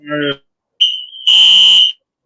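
An electronic alarm sounding during a live online chat, a loud piercing tonal beep that starts, breaks off, then holds steadily for most of a second, preceded by a brief harmonic voice-like tone.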